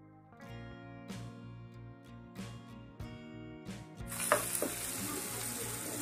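Chopped onions, curry leaves and tomato pieces frying in a pan for an egg and brinjal curry, a soft sizzle building as ingredients go in and rising to a loud, hissing fry near the end, with faint background tones.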